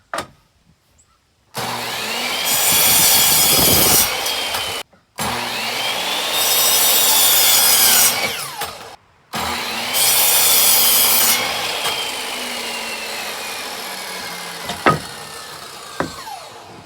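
A power cutoff saw squares up lumber in three loud, whining cuts, each spinning up, biting through the wood for a few seconds and winding down, followed by a couple of sharp knocks.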